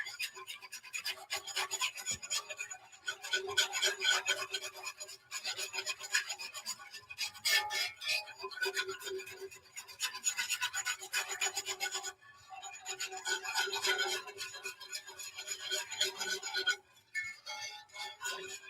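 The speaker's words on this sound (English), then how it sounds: "We're just going to whisk." A whisk scrapes and rasps against a cast iron pan as it works pan drippings over heat, a busy continuous scratching with short pauses, close and fairly quiet.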